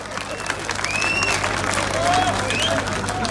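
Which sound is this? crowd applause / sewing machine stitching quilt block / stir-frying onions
crowd applause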